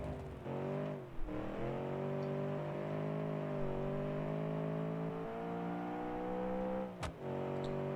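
A steady car engine in a classic rally racing video game hums and revs continuously at high pitch, with a brief dip near the start and a sharp click late on.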